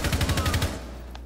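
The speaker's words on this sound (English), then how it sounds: "He was shooting the hostage!" A quick burst of automatic gunfire in the video game Rainbow Six Siege, several rapid close shots lasting under a second, then a short quiet tail.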